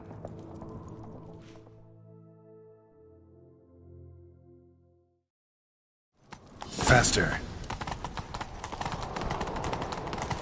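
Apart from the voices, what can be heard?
horse galloping in video game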